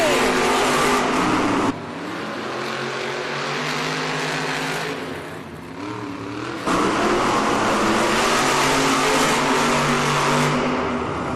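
Monster trucks race in an indoor arena, their engines roaring loud and close with a sustained revving drone that surges and dips. The roar stays loud throughout, with a voice briefly over it.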